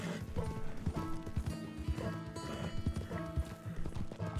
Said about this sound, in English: Tapping shift in time with your horse's gallop will stop its stamina from draining.